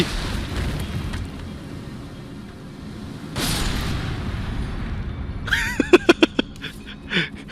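An explosive barrel bursts with a short, muffled boom in the video game Elden Ring, over a low ambient rumble. A quick run of sharp clicks and small pops follows.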